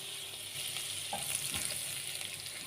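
Three spoonfuls of butter melting in a hot pot on the stove while making ajameya cookies, giving a steady soft sizzle and hiss with a few faint scrapes of stirring, close by and alone.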